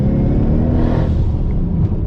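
A 1000hp Mustang GT at half throttle on the Streets of Willow track gives a steady, heavy, close engine rumble with a whirring edge that holds unbroken throughout.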